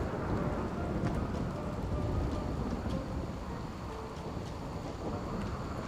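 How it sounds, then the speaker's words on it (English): Thunder and steady rain from a flash storm in the video game RimWorld, a continuous loud downpour with rumbling thunder running through the whole stretch and no talking. "Can you chill with the flash storms? Goddamn. They're so noisy."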